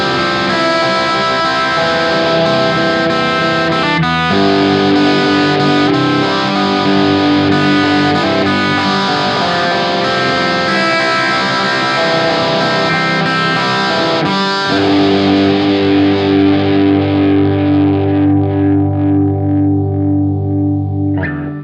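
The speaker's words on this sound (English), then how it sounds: "Vemuram Jan Ray. I really love this pedal for lower gain work. Really beautiful sound, very responsive." Electric guitar through a Vemuram Jan Ray low-gain overdrive pedal into a Cornford Hurricane amp, strummed chords ringing with a warm, lightly driven tone, a brief break midway, then sustained chords fading out.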